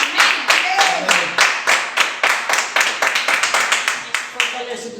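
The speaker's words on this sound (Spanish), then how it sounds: "Recibimos con un fuerte aplauso." Church congregation clapping in a steady, fairly loud rhythm of individual claps, with voices calling out faintly underneath throughout.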